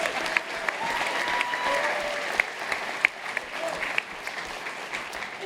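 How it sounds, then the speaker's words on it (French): A live audience claps and cheers after a comic anecdote, moderate applause with scattered sharper claps and voices mixed in throughout. "Et ça s'applaudit."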